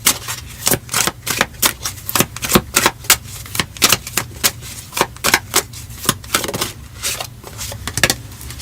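Tarot cards being drawn and handled from a deck, with a rapid series of sharp, close papery snaps and flicks in an uneven rhythm that runs throughout, loud and unaccompanied by speech.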